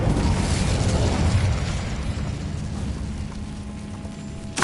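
A fire spell cast in Hogwarts Legacy bursts out as a loud roaring whoosh that settles into a steady crackling rumble, ending with a short pop.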